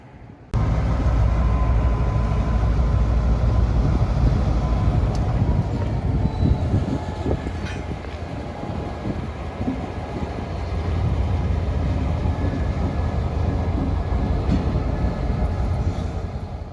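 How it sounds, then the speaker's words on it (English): CSX GP38-3 locomotive number 2055 switches cars at a scrap metal yard on the Downtown Spur, giving a steady, loud diesel rumble and drone that runs throughout, with occasional faint metallic clanks. "Y322 switching Ferrous Processing and Trading on the Downtown Spur"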